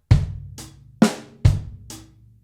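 A close, dry drum kit plays a brief funk break, bass drum thumps alternating with sharp snare and lighter hi-hat hits, five strokes in a syncopated pattern with no talking.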